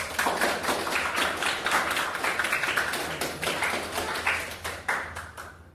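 Classroom clapping from a group of students, a steady patter of many hands close by that carries on for several seconds without any talking.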